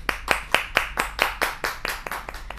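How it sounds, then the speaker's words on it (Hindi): A studio audience at a Hindi kavi sammelan poetry TV show claps in a steady, even rhythm of crisp, loud, close claps, roughly four per second, with no talking over it. "जोरदार तालियों के साथ स्वागत करते हैं हम स्टूडियो में उपस्थित अपने सभी मेहमानों का।"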